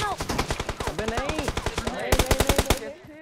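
Automatic gunfire in PUBG Mobile, rapid evenly spaced bursts of loud shots, with a second louder burst near the end before stopping, with a voice speaking faintly underneath.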